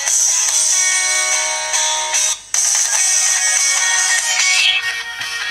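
A Nokia Asha 503 phone plays its ringtone at full volume, a loud bright electronic melody held with a brief drop partway through, heard close and alone.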